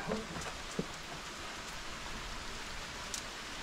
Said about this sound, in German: Seit 2 Monaten das erste Mal richtiger Regen.